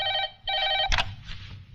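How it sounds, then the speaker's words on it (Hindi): A telephone rings in two close bursts in a comedic Bollywood movie spoof scene, then is cut off by a click as the call connects. "एसपी साहब को फोन लगाइए।"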